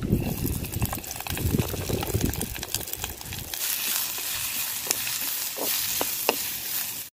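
Onions sauté in a pan for a Kongu-style vathal kuzhambu, a rough, bubbling sizzle that settles into a steadier, softer hiss with occasional light ticks and pops.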